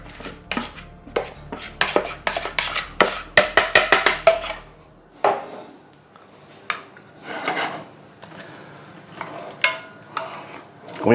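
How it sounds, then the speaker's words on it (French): Mushrooms and onions cooking in a pan for boeuf bourguignon: a quick run of sharp knocks and scrapes, like a utensil working the pan, then sparser clatters and a soft sizzle-like hiss. "Je vais venir faire cuire mes champignons, mes oignons."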